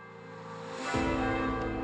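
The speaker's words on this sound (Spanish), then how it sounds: "Un día, el sonido de campanas distantes llegó a través de los árboles, una melodía desconocida pero atractiva." Church bells ring from a distance, a faint, soft metallic toll that swells in after a moment and hangs with a lingering hum and no voices.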